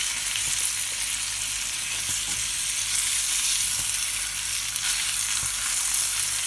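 Butter sizzles in a hot frying pan with caramelised tomato, a loud, even hiss with faint crackles and the odd soft stir, close up with no voices.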